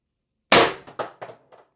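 Pistelle X-68 air pistol with its factory birdcage plenum fires a single sharp, loud crack up close, followed by a few fading metallic echoes and reverberations.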